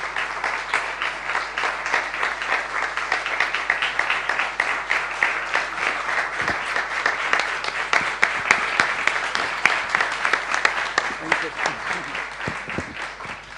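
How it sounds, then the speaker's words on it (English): Long, sustained applause from an audience at a temple festival talk, many hands clapping at a moderate distance in a continuous roll that holds steady for the full length. "The long clapping said it all"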